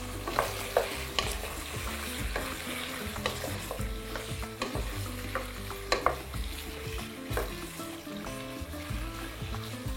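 Lamb meat frying in a pan makes a steady close sizzle with repeated stirring scrapes and clicks, fairly quiet and continuous, with no talking.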